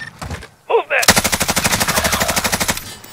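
Video game gunfire starts with a couple of short shots, then turns into a loud, sustained rapid-fire burst of evenly spaced cracks lasting nearly two seconds, with a voice briefly heard before it.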